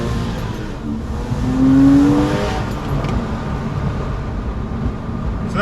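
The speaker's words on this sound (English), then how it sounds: "I'm going to give you guys a quick little blast with the valve closed and the windows down." Porsche 997.1 Carrera 4S with a 200-cell X-pipe revving with its exhaust valve closed, a steady engine drone that swells to one brief, louder rev and then settles back to a constant hum.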